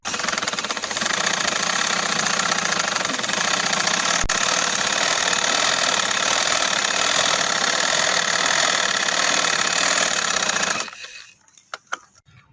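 Sewing machine running continuously while stitching trouser fabric, a fast, even mechanical whir heard close for about eleven seconds before stopping, followed by a few small clicks.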